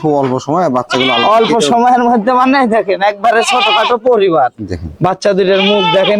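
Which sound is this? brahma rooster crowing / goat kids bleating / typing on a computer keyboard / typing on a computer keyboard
goat kids bleating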